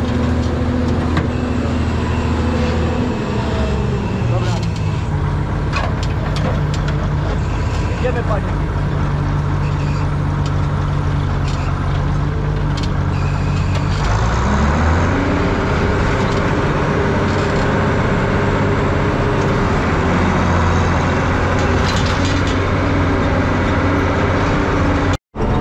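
A Bizon combine harvester drives along with a loud, steady engine drone and a deep humming tone that shifts pitch midway as it changes speed. People talk over the noise.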